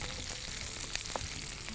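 Chicken and carrots sauté in a pan of oil with onions, cloves and cinnamon for a chicken stew, producing a steady, close crackling sizzle broken by a couple of soft stirring knocks, with no voices.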